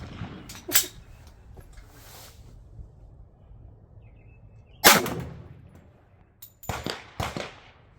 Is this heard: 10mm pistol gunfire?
yes